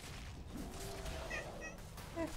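A cat meows in short, high, wavering calls, one near the middle and another at the end, over a steady low background hum during a game.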